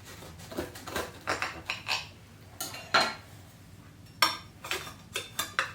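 Knife and server clinking against a pie dish while a slice of homemade apple pie is cut, a series of close, sharp metallic taps and scrapes in irregular bursts.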